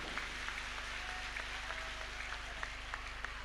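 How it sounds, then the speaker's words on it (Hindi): A seated audience applauding at a religious discourse gathering, a faint, steady patter of many hands clapping at a distance with a low hum underneath. "व्यासपीठ के प्रति पूरे जोर से तालियों से अपना प्रणाम निवेदित किया जाए"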